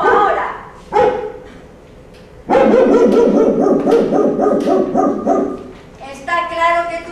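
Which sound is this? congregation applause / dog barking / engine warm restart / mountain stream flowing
dog barking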